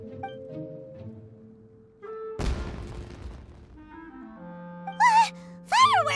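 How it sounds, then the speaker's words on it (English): In the video game Genshin Impact, a single booming firework blast bursts out amid quiet, tonal game music. Afterward come whistling, warbling rising sounds that could be fireworks or voices. "It sounded like fireworks."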